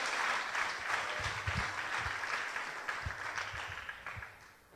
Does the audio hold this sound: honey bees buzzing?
no